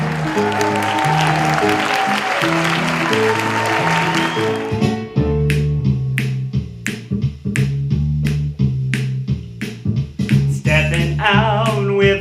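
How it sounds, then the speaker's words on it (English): Applause welcomes the host of a Sunday-night variety show, a dense burst of clapping over an upbeat band for the first few seconds, then the swing band plays on alone with sharp rhythmic snaps. "let's welcome your host with a big round of applause"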